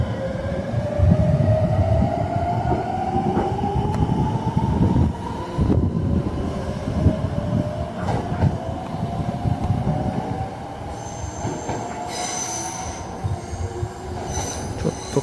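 A Meitetsu train departs Kasamatsu station at dusk, its wheels squealing in long, rising metallic tones over a loud rolling rumble and clatter, with sharper squeals near the end.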